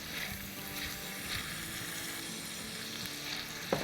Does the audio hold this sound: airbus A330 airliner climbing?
no